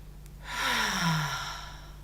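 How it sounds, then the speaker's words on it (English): A deep, slow exhale through the mouth during a live online yoga class, a single soft breath swelling and fading over a low steady hum. "and exhale fully with your mouth."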